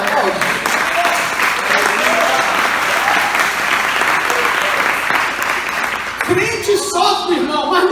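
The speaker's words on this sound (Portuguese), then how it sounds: "Então crente, aplaude." Church congregation applauding during a Portuguese-language sermon, a steady, loud wash of clapping that holds throughout and thins near the end, with a voice rising over it.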